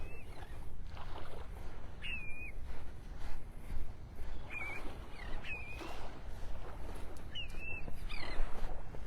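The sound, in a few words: call of a willet bird on the beach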